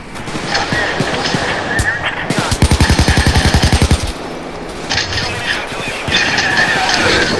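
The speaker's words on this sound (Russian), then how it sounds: "Кто по мне стреляет?" Rapid automatic gunfire from a Payday 2 heist game rakes toward the player in a loud, evenly spaced burst of about a dozen shots, preceded and followed by scattered game noise under a voice.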